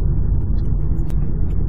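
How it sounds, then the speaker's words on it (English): Road noise inside a 2017 Hyundai Ioniq Electric driving over a badly beaten-up street, a loud, dense low rumble from the tyres with occasional thumps and clatters, steady throughout. "I get quite a bit of road noise, but this is a very beat up street"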